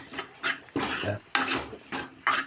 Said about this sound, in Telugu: అలాగే దీన్ని అయితే ఒకసారి ఇలా కలిపేసుకుంటున్నా.